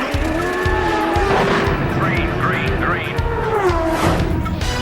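Champ Car World Series race cars roar past at speed on the Toronto street circuit, engines rising and falling in pitch amid tire squeal, loud and close, with a commentator talking over them.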